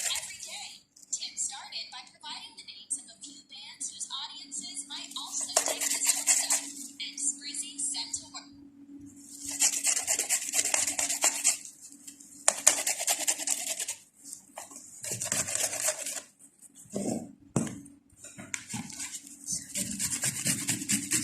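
Onion being crushed and grated by hand for fried meatballs or kofta, producing repeated rough rasping and rubbing strokes in uneven bursts, with a person talking at intervals throughout.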